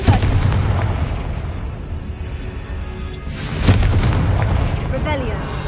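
A Confringo fire spell from Hogwarts Legacy detonates in booming blasts, one at the start and another heavy burst near the middle, loud and close. Rumbling tails follow each, and a voice is heard too.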